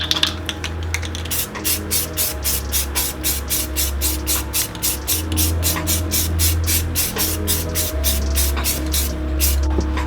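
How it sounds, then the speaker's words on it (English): Spray paint hisses in quick rhythmic bursts, dozens of short even puffs as white is applied to the middle of a gadwall duck decoy, over a steady low hum. "I'm going to do this middle section of this decoy, and I'm going to overspray a little bit and get extra white"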